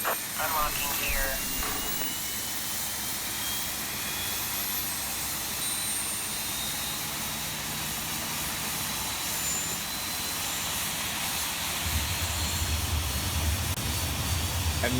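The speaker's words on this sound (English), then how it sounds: "we're getting a good start on engine number 1." Steady roaring hiss of an E-Jet airliner's number 1 engine running after start, with a rising tone early on and a deeper rumble swelling near the end.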